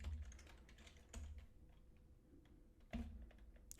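Keystrokes on a computer keyboard while entering a wallet password, with a few heavier thumps standing out against a low background hum; no one speaks.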